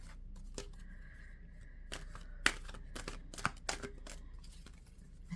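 Oracle cards handled and shuffled, giving soft, quiet riffling and a scattered series of crisp snaps and flicks at close range, with no voices.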